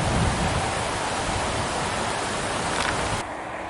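High winter creek water rushing steadily past at close range, a dense continuous roar with no voices, easing slightly near the end.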